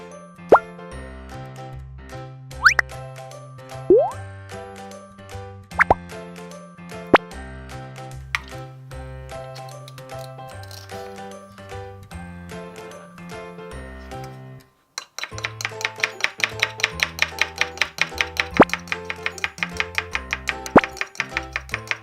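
Toy fruit sliced with a toy knife in a play cooking set: repeated light plastic plops and clicks over cheerful music, becoming faster and more regular toward the end.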